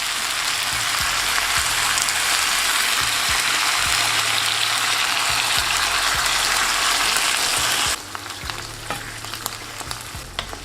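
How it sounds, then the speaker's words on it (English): Sweet and sour sauce goes into a pan of pineapple and softened vegetables over a loud, steady sizzle that drops sharply near the end, with faint stirring clinks underneath. "Now slowly add in our sauce."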